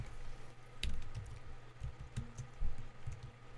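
Keys tapped on a computer keyboard in short, irregular bursts of soft clicks at close range, with no talking.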